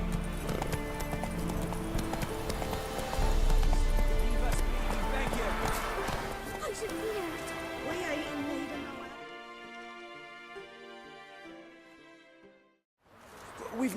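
Roach, a horse in The Witcher 3, gallops with steady rhythmic hoofbeats over game music and voices, fading into quieter music near the end.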